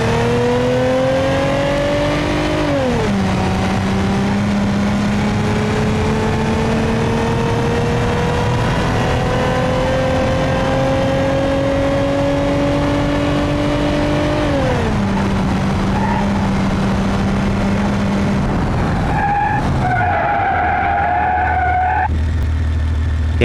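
In BeamNG.drive, a car with a 3.2 liter V6 engine drives and revs loudly, its engine pitch climbing through gears with shifts, then dropping and idling near the end.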